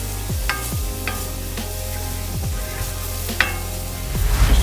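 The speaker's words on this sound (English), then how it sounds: "So I'm going in with my garlic. I just want to toast that up a little bit." Garlic sizzles steadily in a preheated pan, a constant frying hiss with a few soft clinks and stirring scrapes scattered through it, rising a little louder at the end.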